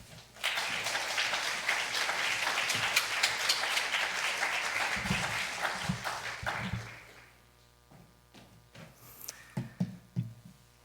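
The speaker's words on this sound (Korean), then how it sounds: "여러분 이제 총장님 나오실 때 한 번 더 격려의 박수 드리겠습니다." Audience applause in a university chapel service as the university president comes forward, a dense burst of clapping that fades after about seven seconds, followed by scattered knocks and shuffling.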